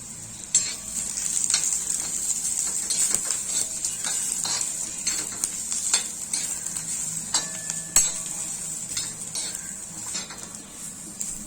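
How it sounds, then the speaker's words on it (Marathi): Dry grated coconut being stirred and roasted in a pan with onion for an egg curry masala, a steady dry rustling scrape with frequent spatula taps and clinks against the pan, close and moderately loud throughout, no talking. "आता मी यामध्ये सुकं खोबरं घालतो, ते सुद्धा चांगलं परतून ह्याच्यामध्येच ठेवूया।"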